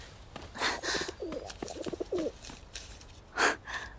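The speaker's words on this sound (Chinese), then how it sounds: "你在这儿还有鸽子呢" A pigeon coos softly in a quiet indoor scene from a kung fu film, with a few low, throaty, burbling calls spaced out and a couple of brief breathy sounds between them.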